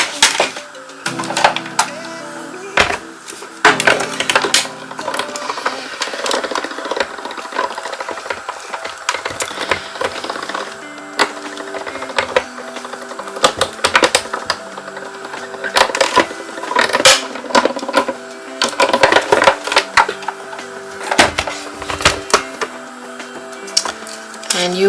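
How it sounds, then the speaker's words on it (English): Die cutting machine drawing heated foil and cardstock through its rollers, a steady mechanical whirring and clicking that runs throughout, close and fairly loud. "So I'll run that through the die cutting machine"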